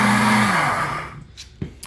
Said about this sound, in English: self-cleaning blender